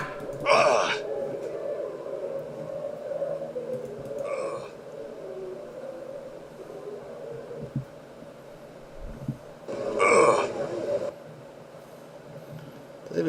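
A character in the video game Planescape: Torment makes recurring hiccup sounds, short bright bursts about six seconds apart over a low droning game ambience.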